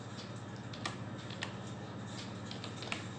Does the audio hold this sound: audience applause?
no